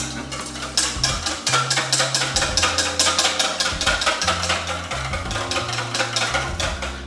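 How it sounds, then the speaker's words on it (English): A whisk beats a lemon juice mixture in a bowl with rapid, steady metallic clicks and scrapes in a fast even rhythm, close and fairly loud, running throughout. "you're just gonna whisk this up really quickly"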